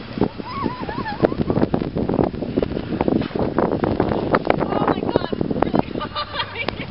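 Wind gusts roar and buffet the microphone during the 2011 Tulsa blizzard, a steady rough rush that runs throughout while people talk close by.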